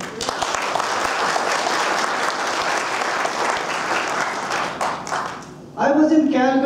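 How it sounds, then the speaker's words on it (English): Loud, sustained applause from a large audience at an indoor gathering, steady dense clapping for nearly six seconds before it tapers and a voice begins speaking near the end. "especially with Brother Dale, with a big round of applause to him."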